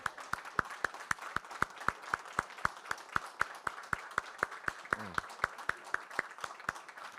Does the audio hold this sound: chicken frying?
no